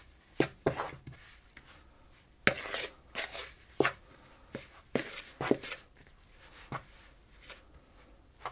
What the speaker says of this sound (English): I'm going to use a knife and I'm just simply going to mix around until it starts to clump together.